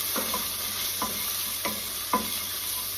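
Basil sautéing in oil in a pan, a steady soft sizzle with four evenly spaced stirring scrapes, no talking.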